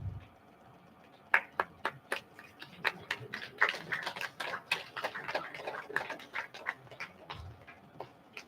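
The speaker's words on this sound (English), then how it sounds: "Please make a big round of applause." Audience at an international conference applauding, a thin scatter of individual claps building briefly then tapering off, moderately close and without speech.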